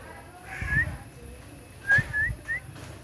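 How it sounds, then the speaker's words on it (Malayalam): A pet talking parrot at home lets out a few short, bright rising whistles close by, one single and then a quick run of three, over low household background noise. "ഇവിടെ തത്തൻ്റെ കേട്ടോ വർത്താനം പറയുന്ന തത്ത"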